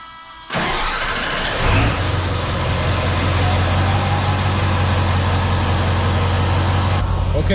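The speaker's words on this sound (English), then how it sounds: "I'm gonna fire this thing up and we're gonna drive it out of here" A Ford Super Duty with a 7.3 Powerstroke diesel engine and a swapped axle cranks and fires up, then settles into a loud, steady, rumbling idle close by before cutting off near the end.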